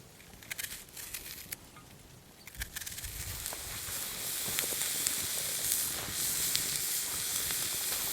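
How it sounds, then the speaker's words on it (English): Potatoes and sausage frying in a pan over a campfire outdoors, a steady close sizzle and hiss that swells in the second half, with scattered crackles and pops. "put them in the pan, and fry them up over our fire"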